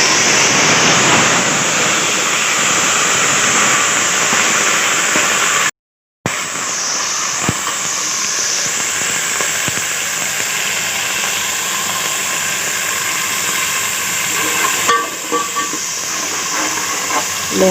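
Ground garlic, ginger, coriander and cumin sizzle in hot oil for aloo gosht, a loud continuous hiss broken by one short dropout, with the frying sound easing slightly near the end.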